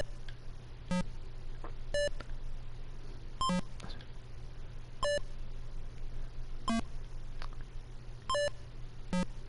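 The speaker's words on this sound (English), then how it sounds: "I love just the simple beeps and boops." Simple electronic beeps from Atari Breakout ring out one at a time at irregular intervals over a low steady hum, with no talking.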